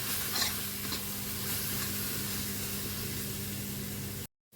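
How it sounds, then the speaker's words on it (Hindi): Grated raw mango chutney cooking in a pan over a very low flame, a soft steady sizzle with gentle stirring, ending in a brief silence. "इसको धीरे धीरे हम चलाते जाएंगे ताकि ये नीचे चिपके नहीं"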